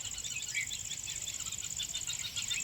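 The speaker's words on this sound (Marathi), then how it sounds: "इकडं चिमण्यांचा किलबिलाट चालू झाला आहे" Sparrows chirping at dusk in a busy, rapid chatter, fairly faint and a little distant, with a steady insect-like trill underneath.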